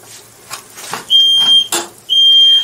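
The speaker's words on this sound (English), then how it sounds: "even the smoke alarm has questions" A smoke alarm lets out loud, piercing high beeps, two long shrill tones with a short gap between them, after some faint clattering.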